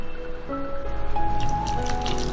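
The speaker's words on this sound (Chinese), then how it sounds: "淋入一点浓浓的淀粉水，再来少许花生油" Starch water and peanut oil pour onto thinly sliced beef with ginger shreds in a bowl, a soft steady trickle and drip that swells toward the end, close and alone without talk.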